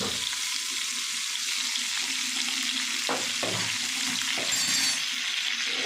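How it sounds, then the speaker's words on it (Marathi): Cauliflower frying in hot oil in a kadhai, a loud, continuous sizzle close by, broken by a few spoon scrapes and clinks against the pan. "आता बघा तेल गरम झालं आहे आणि ह्याच्यामध्ये फ्लावर घालून घेऊया"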